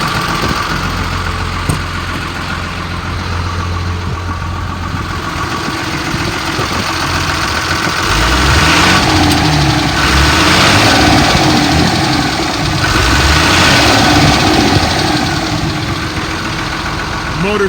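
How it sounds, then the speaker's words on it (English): A 2002 Sterling M8500 bucket truck with a fiberglass body and automatic transmission runs its diesel engine. It idles steadily, then revs up twice and falls back, loud and close, with no talking. "It revs up nice. It idles smooth."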